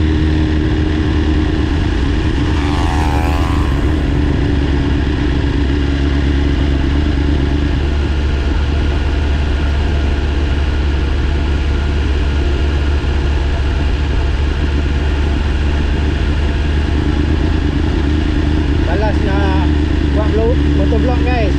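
A motorcycle engine drones steadily and loudly throughout, close up, with constant wind rush past an open-face helmet and a brief higher whine partway through.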